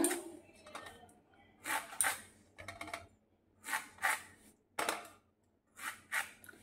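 A knife slices through a washed watermelon in a home kitchen, making a series of crisp, juicy cutting bursts separated by short pauses, close and fairly quiet.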